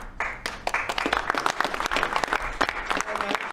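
An audience bursts into applause after a phone call ends, with loud, close, uneven clapping from many hands throughout.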